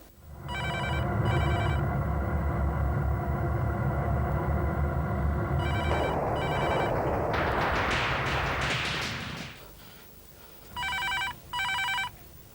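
A landline telephone rings indoors in a home scene from a TV drama, sounding in short double bursts that repeat three times, over loud background music and rushing noise.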